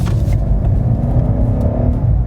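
A 2018 BMW M5 F90 accelerating in rear-wheel-drive mode, heard from inside as a steady, loud low engine rumble and drivetrain whir with a rising tone that holds throughout.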